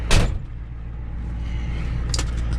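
A 1985 Ford F-250 diesel truck engine idles with a steady low rumble from inside the cab, with a sharp knock or door thump at the start and another brief clunk near the end.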